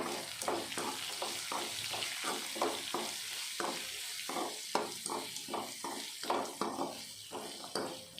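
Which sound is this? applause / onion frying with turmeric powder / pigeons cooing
onion frying with turmeric powder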